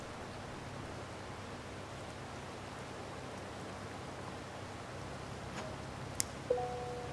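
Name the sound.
heavy rain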